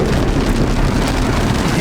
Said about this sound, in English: Yo, it's actually raining.